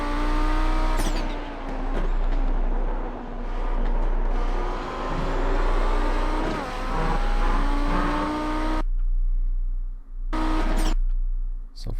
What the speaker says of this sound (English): I'm again waiting until it hits the limiter here in 3rd gear.